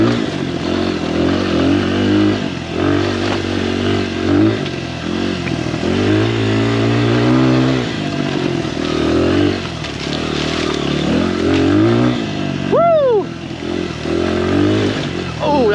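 A Honda XR100 enduro motorcycle engine revs hard on a single-track trail hill climb, its loud, close buzz rising and falling through gear changes, with brief exclamations from the rider.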